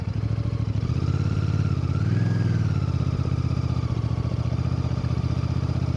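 A 2025 Royal Enfield Bear 650 with a stubby low-mounted exhaust burbles on the overrun, a loud, steady throbbing rumble that swells slightly midway, heard close up with no talk.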